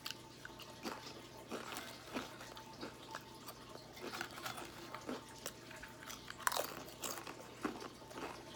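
Someone chews a ghost pepper chip up close, with faint, irregular crunches and bites spread across the stretch at low volume and no talking.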